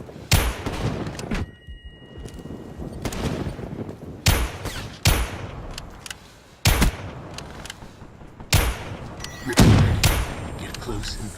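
M14 and Dragoon rifle fire in Black Ops 3, sharp loud shots in scattered bursts and single cracks over an 11-second stretch, with game noise and someone talking between volleys.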